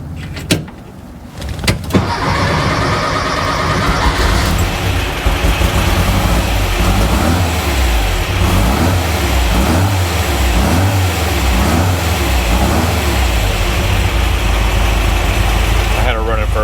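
A car engine cranks briefly, catches and keeps running steadily after a fuel pump switch fix, with a little throttle added, holding a loud, continuous idle-to-rev drone for most of the stretch.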